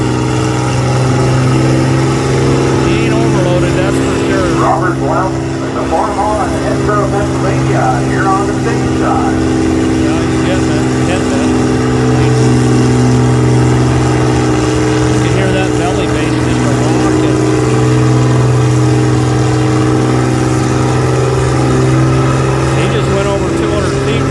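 Red Power tractor at a county fair tractor pull, a loud steady engine roar holding its pitch and swelling at times, with an announcer talking over it throughout.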